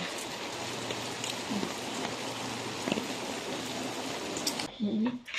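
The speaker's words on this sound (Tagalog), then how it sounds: "Walang bagyo guys, kaya lang napakalakas yung ulan." Steady heavy rain pouring down, a dense hiss of drops drumming on surfaces, close and continuous, briefly thinning near the end.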